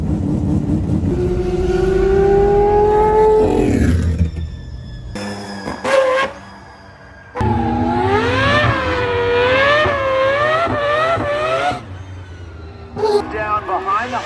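Mazda 787D five-rotor race car screaming around a track, loud and close, with rising and falling revs across gear changes, a sharp drop near the middle, then a hard return to full-throttle howl.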